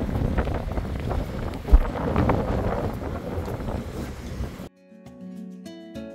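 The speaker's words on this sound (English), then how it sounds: "I think it's too windy." Wind roars across the microphone in Aveiro, Portugal, a steady low rush for several seconds, then cuts off abruptly into quiet music.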